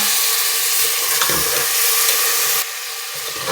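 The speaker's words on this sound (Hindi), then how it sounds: "इसको अब हमने अच्छी तरह भून लेना है" Turnips, salted and spiced beforehand, frying in masala for a turnip curry (shalgam ka salan), giving a loud, continuous sizzle with stirring scrapes throughout and no talking.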